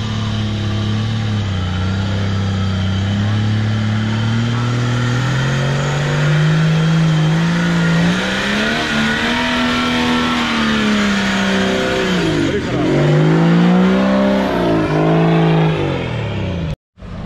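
A UAZ off-road vehicle on portal axles, with a diesel engine and manual gearbox, revs loudly close by. The engine note climbs and dips repeatedly with no talking, then cuts off abruptly at the end.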